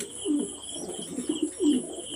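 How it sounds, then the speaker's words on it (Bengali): Pet pigeons kept in a loft coo softly in low, rolling bursts, close by and calm, with no talk. "এগুলো কিছু কবুতর আমি রাখছি আমার পোস্টারিংয়ের জন্য"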